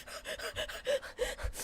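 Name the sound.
heavy breathing, in the video game Final Fantasy XIV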